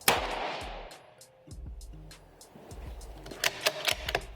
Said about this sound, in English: I'm gonna shoot the top, number 7.